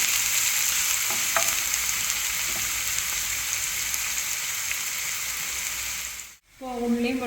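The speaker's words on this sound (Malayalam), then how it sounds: "ഇളക്കി കൊടുക്കാം ഇങ്ങനെ മുരിഞ്ഞ് വരണം" Ivy gourd and dried prawns fry in a pan for a Kerala-style stir-fry, giving a loud, continuous sizzle with occasional stirring scrapes, then a brief cut before a voice speaks briefly at the end.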